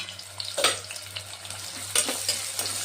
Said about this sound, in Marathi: तेलामध्ये ना ते आपल्याला टाकून घ्यायचा आहे कांदा।